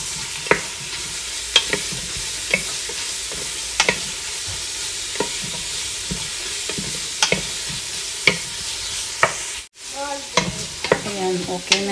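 Ginger frying in a hot pan gives a steady hiss, broken by sharp, regular spatula scrapes and taps as it is stirred, close and fairly loud.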